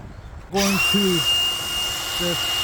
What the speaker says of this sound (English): We'll drill that out.